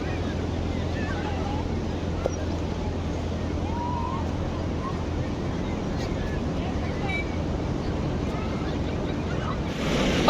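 Sea waves wash continuously on a beach in Ratnagiri, a steady broad roar heavily mixed with wind buffeting the microphone, close and unbroken throughout.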